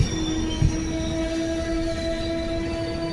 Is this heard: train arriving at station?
yes